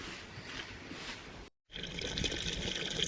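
Water is poured into an animal drinking container on a snowy homestead, with a steady trickling splash, a brief pause, then continued pouring that sounds fuller and close by.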